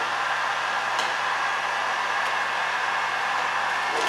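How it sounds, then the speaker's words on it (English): A heat gun blows a steady, loud, rushing whoosh over Vvivid carbon fiber vinyl wrap on a car, running continuously without a break. "So just kind of heating the area where I'm going to go and try to peel, pulling it off."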